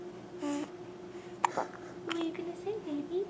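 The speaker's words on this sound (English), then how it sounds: "Now she's got the hiccups." A baby fresh from a bath hiccups with a few sharp, brief jolts spaced apart. A soft adult voice talks over them and a steady low hum runs underneath.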